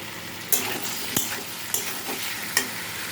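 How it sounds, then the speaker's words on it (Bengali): Vegetables frying in oil with grated ginger in a pan, a continuous close sizzle broken by four sharp spatula scrapes at regular intervals, no talking. "সবজিগুলো তেলের সাথে দশ মিনিট ভাজা হয়ে গেছে এবার আমি একটু আদা ঘষে নিয়েছি ঘষা আদাটা দিয়ে দেবো"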